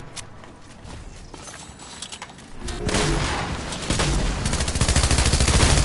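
Fortnite gunfire comes as sparse shots at first, then turns into a loud, dense string of rapid-fire bursts in the second half, close and punchy with no talking.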